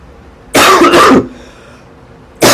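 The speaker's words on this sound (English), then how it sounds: "I can make you all listen to the proper cough if you want." A person's genuine cough, a tight burst of two or three harsh hacks up close, then quiet before another cough starts at the end.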